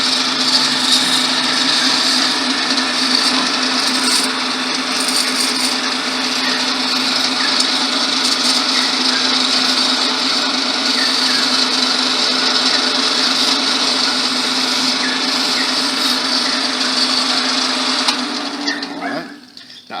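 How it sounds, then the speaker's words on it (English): Wood lathe spinning a wooden wand while a wire brush roughs up its surface, a steady loud motor whine with scratchy rubbing texture for nearly twenty seconds, winding down at the end. "I'm going to turn the lathe on."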